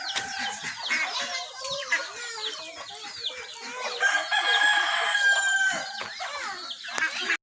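Chickens cluck and a rooster crows on a residential lot, the calls dense and overlapping throughout, near and fairly loud, with no speech.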